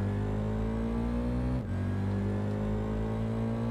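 A motorcycle engine in the Tourist Trophy racing game drones steadily with a low, even tone that dips briefly as if shifting gear, then holds on, with no talk.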